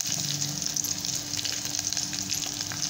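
Curry leaves crackle and sizzle steadily in hot oil for a buttermilk tempering, a close, continuous frying hiss with no voices.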